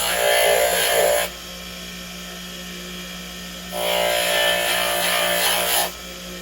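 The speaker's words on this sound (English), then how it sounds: "I'm going to try to just grind this part off." An electric grinder whines loudly as it cuts into part of an ink security tag. It runs in two bursts of about a second and two seconds, with a quieter motor hum between them. No one speaks.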